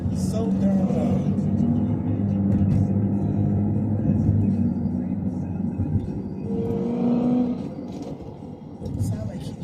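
A low car with a modified exhaust rumbles nearby with a deep, loud exhaust note, swelling and easing over several seconds.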